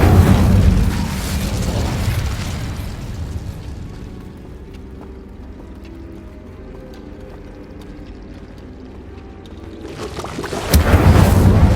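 Incendio fire spells in Hogwarts Legacy burst out at the start, a loud roaring whoosh that fades to a low rumble, then a second blast flares up near the end.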